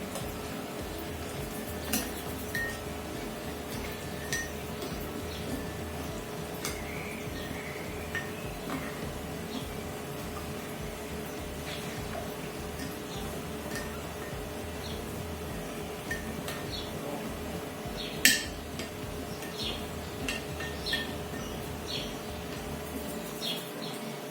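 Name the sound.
stirring a marinade in a bowl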